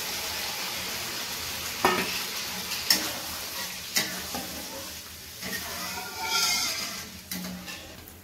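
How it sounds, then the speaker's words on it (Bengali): Masala fried in oil in a pan for doi katla hisses and sizzles as water goes in, with a steady crackle broken by a few sharper bursts and clinks. Close and moderately loud. "জল দিয়ে দিচ্ছি"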